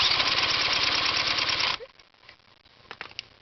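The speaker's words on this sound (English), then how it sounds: "and then I just start the moped" A Honda Hobbit PA50 moped engine runs loud and close with a steady buzzing idle for under two seconds, then cuts out abruptly, leaving faint clicks and rustling.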